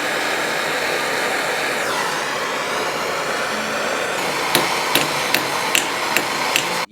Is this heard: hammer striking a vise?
yes